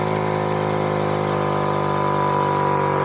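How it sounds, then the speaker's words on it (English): A Honda C90 motorcycle's semi-automatic engine runs at a steady, even hum, continuous and moderately loud with no talking. "I'm not a fan of the semi-automatic engine, I've got to say"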